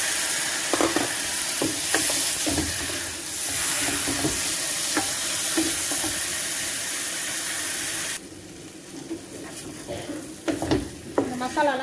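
Steady sizzling of spices and chicken bones frying in a pan for mee curry, with occasional scraping stirs, continuous and close, the sizzle dropping slightly partway through.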